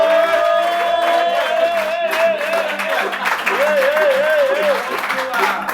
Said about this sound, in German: Szenenapplaus